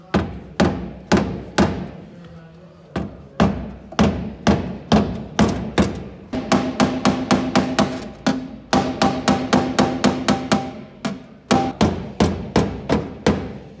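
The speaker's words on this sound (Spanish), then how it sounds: "Este martillo para sacar los golpecitos," A hammer taps out dents in very thin car sheet metal, dozens of sharp metallic strikes, some spaced out and others in quick steady runs, loud and close with a brief ring after each blow.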